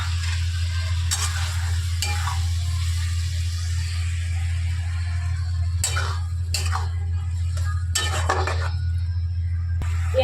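Tomato paste frying with spices in a pan for an egg and capsicum curry, a soft sizzle over a steady low hum with scattered scraping stirs and metal clinks, no voices.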